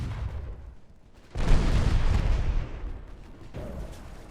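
A heavy, rumbling boom from a torpedo hit on a ship in the Ultimate Admiral Dreadnoughts naval game, a single loud explosion that swells and slowly fades, followed by a smaller second thud near the end.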